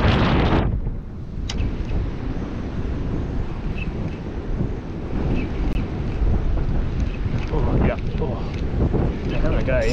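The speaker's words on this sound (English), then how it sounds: "It is so windy right now." Strong wind buffets the microphone on an open shoreline during low tide, a loud, continuous broadband roar that gusts and swells throughout with no pause.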